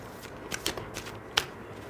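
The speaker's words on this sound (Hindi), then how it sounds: "थोड़े से कार्ड्स और मैं निकालती हूँ फ्रेंड्स" Tarot cards are drawn and shuffled from a deck, heard as a few soft, close card flicks and slides with one crisper snap, with no talking.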